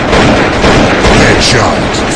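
Loud, close gunfire in the blocky shooter Block Gun, with repeated overlapping shots and booming impacts filling the moment, a voice briefly present underneath.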